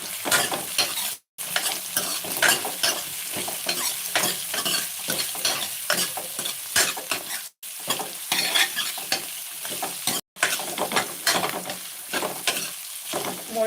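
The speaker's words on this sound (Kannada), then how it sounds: "ಸ್ವಲ್ಪ ಜೀರಿಗೆ ಹಾಕೋತಾ ಇದ್ದೀನಿ ಹಂಗೆ ಒಂದು ಇಂಚಷ್ಟು ಚಕ್ಕೆ ಹಾಕೋತಾ ಇದ್ದೀನಿ" Cumin seeds and a piece of cinnamon crackle in hot oil, a dense steady sizzle broken by stirring scrapes and three brief pauses.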